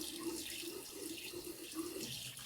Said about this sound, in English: I'm just going to use it to rinse my face.